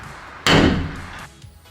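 A spring-loaded center punch snapping against a metal van roof, one sharp loud clack followed by a brief ringing decay, close and alone.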